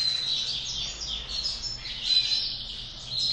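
White domestic canary chicks, separated from their parents, give thin high chirps and peeps close by in a quick, continuous twittering without voices.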